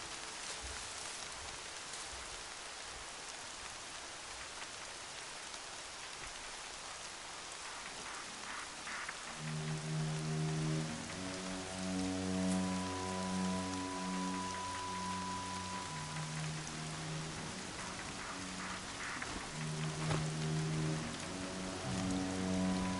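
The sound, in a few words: rain in the video game Horizon Zero Dawn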